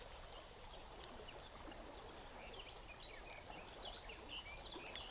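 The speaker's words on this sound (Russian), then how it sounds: "Очень сильный поток." A strong, muddy river current flowing past a small PVC inflatable boat, a continuous soft rushing wash with faint bird chirps above it, fairly quiet and steady throughout.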